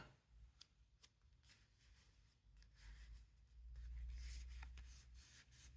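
Scissors snip through paper while trimming a tiny one-sheet craft album to length, quiet crisp cuts and rustles at close range with no talking.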